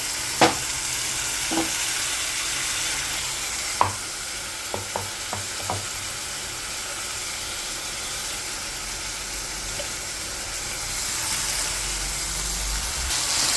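Brinjal curry with tomato, garlic, ginger and green chillies frying in a pan: a continuous even sizzle with a few sharp spoon taps and scrapes as it is stirred.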